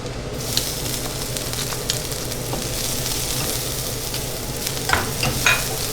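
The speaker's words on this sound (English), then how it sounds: "Drop of oil, sesame oil, and let's go in with the garlic and ginger." Garlic and ginger frying in sesame oil in a hot pan, a steady close sizzle with occasional stirring clatter and scraping throughout, no voices.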